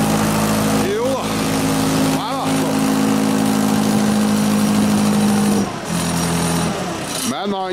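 A Volvo BM-642 loader's engine runs steadily just after a cold start, a loud continuous drone with a slight drop in pitch near the end, while people talk over it.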